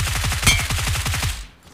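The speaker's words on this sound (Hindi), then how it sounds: "अब यहाँ पर इस बंदे ने तब तक गोली चलाया जब तक एक नंबर की पेटी नहीं बन गई" Automatic gunfire in the BGMI (PUBG) mobile game: a rapid, evenly spaced burst of about a dozen loud close shots that stops abruptly, followed by a brief quiet tail.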